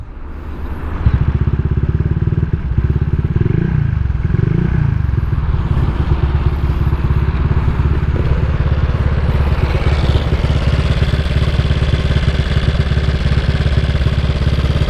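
A Honda Vario scooter engine idles and runs with a steady, rapid, clattering mechanical buzz like a sewing machine, close and constant, with a slight rev change partway through.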